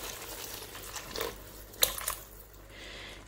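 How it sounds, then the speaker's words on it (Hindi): Half a cup of water pouring and splashing into a cooking pot of mutton mince with peas and potatoes, a soft trickling with a few sharp clinks, fairly close and with no talking. "हम इसके अंदर आधा कप पानी शामिल कर रहे हैं।"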